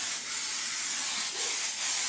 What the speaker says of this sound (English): So spray at a bit of a distance, quite evenly, lots of glue.